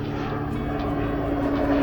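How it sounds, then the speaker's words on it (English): A low-flying training airplane drones loudly overhead in Nowy Targ, a steady propeller-engine roar throughout with no voices. "It took me some time to get used to the constant noise of airplanes"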